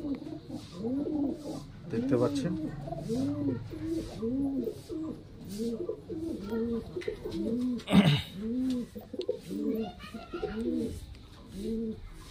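Highflyer Giribaz pigeons, a female among them, coo in a steady run of low, rolling calls close by, while someone talks over them throughout.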